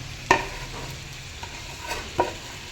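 A spatula stirs gourd peels and potatoes frying in a pan, with a few distinct scraping knocks against the pan over a soft, continuous background sizzle.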